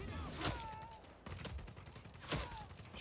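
Gunfire in the open-world game Just Cause 4 crackles in quick bursts, with two heavier shots standing out among faint rapid fire, fairly quiet and slightly muffled.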